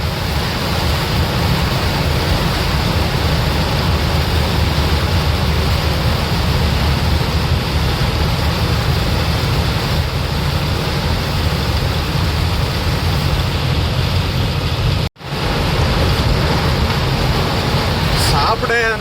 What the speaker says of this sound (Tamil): முன்னாடி என்ன இருக்குன்னே தெரிய மாட்டேங்குது அந்தளவுக்கு மழை பெய்யுது